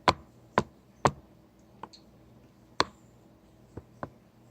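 Keyboard arrow keys are pressed one at a time, about seven crisp isolated clicks spaced irregularly, close and clear against a quiet background with no talking.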